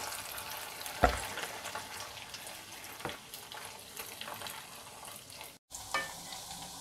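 Taro root curry being stirred gently in a pan over heat, giving a soft steady sizzle with light scraping strokes and a few sharper knocks of the spoon against the pan.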